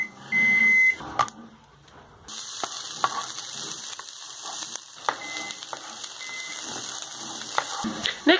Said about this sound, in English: microwave to the rescue.